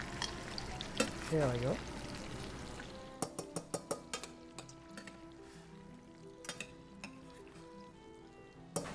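Food crisps in a hot pan during a chef's cooking demonstration, giving a soft steady sizzle. A few scraping stirs and a run of sharp clinks of a utensil against the pan follow, with someone speaking briefly at the start.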